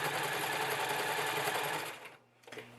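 A sewing machine zigzag-stitches recycled T-shirt fabric, running in a continuous close whir for about two seconds before stopping. A brief mechanical click follows.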